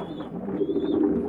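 Pigeons cooing in a loft, a soft continuous low coo close by with no talk over it.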